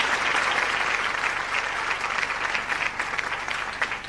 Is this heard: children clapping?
yes